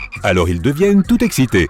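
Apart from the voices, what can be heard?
toads croaking before rain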